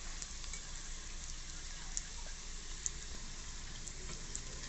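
Onions sautéing in hot oil in a pan, a faint, steady sizzle and crackle with a few small pops, heard alone with no talk.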